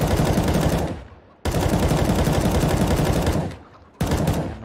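Automatic rifle fire sprays in rapid bursts in the video game CS:GO, two long sustained volleys and the start of a third, loud and close with no talk over them.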